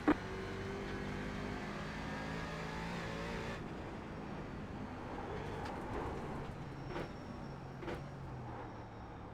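A race car engine in the sim racing game iRacing drones steadily at moderate level for several seconds, its tone shifting as the car accelerates and brakes, with faint higher whines and no talk.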